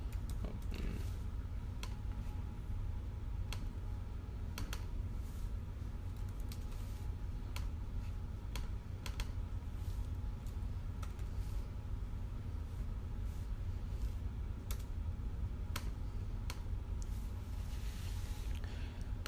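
Quiet, scattered keystrokes on a computer keyboard while text is being written, irregular clicks over a soft steady background hiss with no talking.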